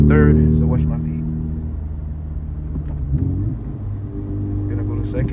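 Honda Civic Type R FL5 engine rumbling from inside the cabin through a rev-matched downshift, steady low drone with a brief rise in revs partway through, mixed with light clicks and a voice speaking at the start.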